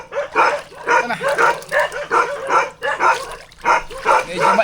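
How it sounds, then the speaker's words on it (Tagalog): Several dogs bark repeatedly in a lively, rhythmic run of loud, close barks and yips on an island fishing shore while crabbing. "Medyo maingay yung mga aso."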